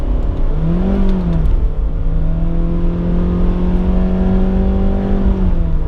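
A 2017 Honda Jazz engine in sport mode with manual gearbox control, a loud close drone that rises in pitch as it accelerates, dips briefly near the start, then holds a steady strained hum.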